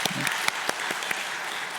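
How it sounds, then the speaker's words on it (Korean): Brief burst of audience applause in a church setting encouraging a young child about to recite a Bible summary, dense and steady clapping throughout. "여러분 크게 박수 한번 다시 격려해 주시기 바랍니다"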